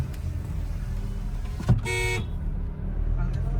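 Steady road traffic rumble on a narrow, congested road with a short car horn toot partway through, close by and fairly loud over the engine noise.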